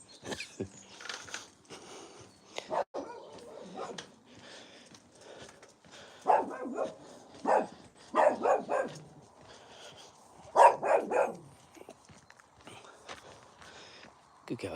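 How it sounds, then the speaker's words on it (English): A neighbour's dog barks in repeated loud bursts at 5:20 in the morning during an early walk, the barks coming in clusters at moderate distance, with footsteps and occasional talking in between. "I don't know why people let their dogs come out at 5:20 in the morning and bark like that."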